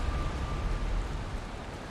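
Steady rain pours in the Valheim video game, a dense, even hiss of falling water filling the scene without pause.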